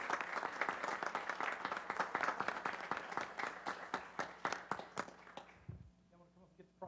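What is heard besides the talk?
round of applause for the Junior League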